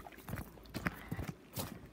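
Horse hooves clip-clop on a farm after a riding lesson, a handful of uneven, fairly close steps with a short gap, heard alone without talk.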